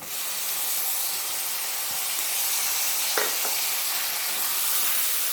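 Chopped tomato dropped into hot oil with ginger garlic paste for a chicken kulambu, giving a steady, hissing sizzle throughout, with a couple of brief utensil clicks midway and no talking.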